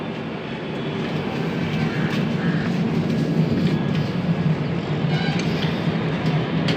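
A Rajdhani Express passenger train getting moving after an unscheduled halt, with a steady rumble and rail clatter heard from on board.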